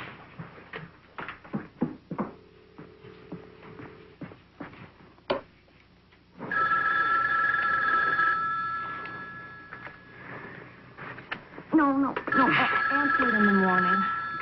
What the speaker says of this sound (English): Get Gordon on the phone.